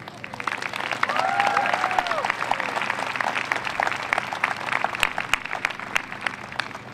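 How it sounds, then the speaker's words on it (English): Sustained applause from an audience at a therapy dogs thank-you event, dense clapping filling the room with a few whoops and sharp individual claps, continuing steadily to the end. "they deserve a good round of applause"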